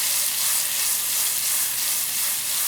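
Chopped garlic sizzles steadily in a hot pan while chicken pasta with white wine sauce is being made, a close, continuous bright hiss with no voices.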